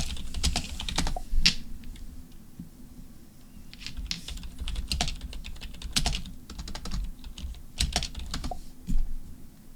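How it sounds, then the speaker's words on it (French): Clattering computer keyboard, typed in irregular bursts of quick, close key clicks with short pauses between runs and no talk. "ton clavier cassé là"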